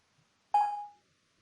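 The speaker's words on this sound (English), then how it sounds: "one word is blanked out with a beep" One short electronic beep blanks out a word in a recorded economics negotiation language lesson, a clean tone lasting about half a second with no talk around it.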